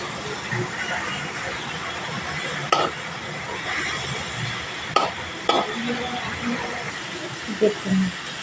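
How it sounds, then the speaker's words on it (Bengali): Mixed leafy greens fry in a pan over medium heat, a soft steady sizzle broken by occasional scraping knocks of a spatula stirring and pushing the greens aside. "মিডিয়ামে রেখে শাকটা ভেজে নেব যে রসটা থাকবে রসটা এইভাবে সরিয়ে সরিয়ে দিয়ে রাখলে তাহলে কি তাড়াতাড়ি ভাজা হয়ে যাবে"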